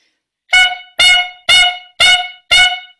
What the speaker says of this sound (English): Now let's just blow down the clarinet a bit more and it will make the sound.